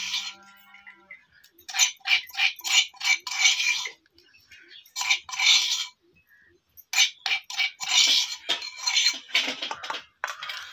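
Finely grated coconut being scraped out onto a plate, with repeated bursts of scraping and light clinking in uneven rhythm, close and moderately loud, separated by short pauses.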